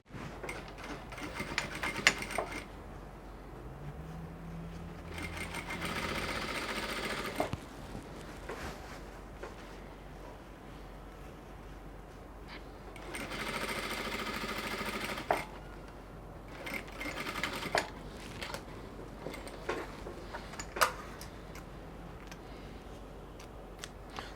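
A domestic sewing machine topstitching tucked raw edges on a bubu dress with a front inverted pleat, running in a few short stretches between quieter handling sounds, fairly faint and close.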